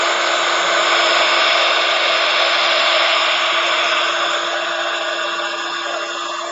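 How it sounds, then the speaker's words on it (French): A heat gun for embossing powder blows steadily with a loud, constant whooshing roar of air, fading slightly toward the end, no voices. "On va venir chauffer avec le gun de poudre"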